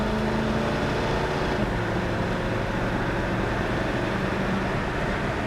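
A 1970 Ford Mustang Mach 1 engine drones from inside the car while driving, a loud steady rumble mixed with road and wind noise.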